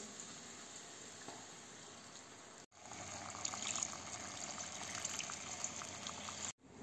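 Orange juice pours steadily into a pan of veal scaloppine with capers, a continuous liquid gush with a brief break midway.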